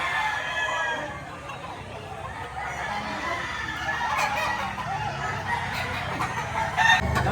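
Rooster crowing at a fowl market in Lipa, Batangas, with stags and chickens nearby; repeated crows and clucks ring out over a murmur of people and background bustle.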